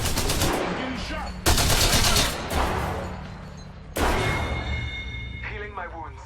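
Rapid automatic gunfire in the battle royale video game Apex Legends, in loud repeated bursts with short gaps, heard close, with a player talking over it.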